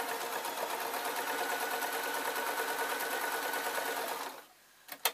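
A sewing machine stitches a dart in a dress, running in a steady fast whir for about four seconds before stopping, followed by a couple of brief clicks.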